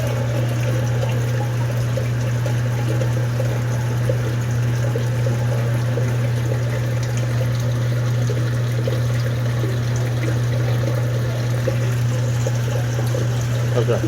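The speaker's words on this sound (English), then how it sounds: "we have water coming out of the drain." Water runs steadily out of the drain on a Cleveland boiler base with kettles that is not heating, a continuous pouring rush over a constant low pump hum.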